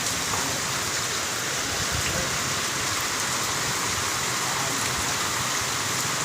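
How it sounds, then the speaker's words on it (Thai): Heavy rain pours down on a durian orchard, a dense, steady hiss of drops striking leaves and ground that stays loud and unbroken throughout. "ฝนตกน้ำเต็มสวนเลย ตกแป๊บเดียว"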